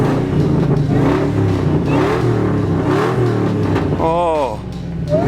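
A supercharged Ford SVT Lightning pickup's engine, about 17 years old, idles loudly with a steady throb, then is revved near the end, with a rising whine over the rumble.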